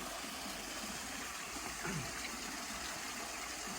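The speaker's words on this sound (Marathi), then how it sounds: "या ठिकाणी जे काही धबधबा आहे आता कमी झालेला आहे" A reduced waterfall at the Jogeshwari caves makes a steady, even hiss and rush of falling water, a continuous wash of sound with no clear breaks.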